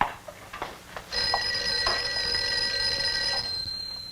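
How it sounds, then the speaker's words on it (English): Old-fashioned telephone bell ringing in a 1950s office, a sustained metallic ring lasting a couple of seconds after a few faint clicks and rustles, with no talk over it. "I think your phone is ringing"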